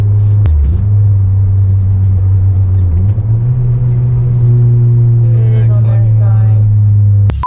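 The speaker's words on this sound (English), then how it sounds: "Let's see how the car drives." An Acura TSX engine hums low and steady from inside the vehicle during a test drive, shifting pitch as it drives along, with a few faint clicks and thumps.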